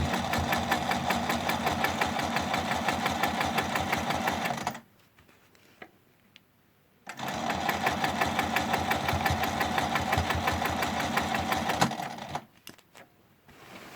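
A sewing machine free-motion quilts with a ruler foot against an 8-inch ruler, stitching in gold thread; its fast, even mechanical chatter runs close and loud for about five seconds, stops, resumes for another five, then halts again.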